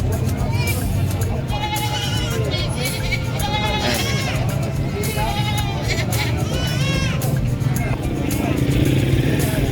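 Goats bleating at San Carlos livestock market, repeated overlapping bleats near and far over crowd chatter, with a motorcycle engine faintly in the background and people talking throughout.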